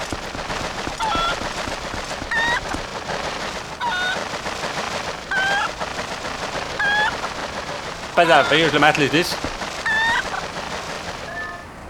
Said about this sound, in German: Gockel, warte mal.